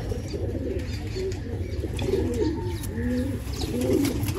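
Soft, repeated pigeon cooing in low rolling phrases, fairly close, over a steady background hum; no talking.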